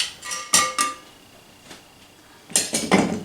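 A heavy-duty spatula and a spoon scrape and clink against a pot of sticking onions, a few sharp metallic knocks and scrapes in bursts with a quiet gap between, close by.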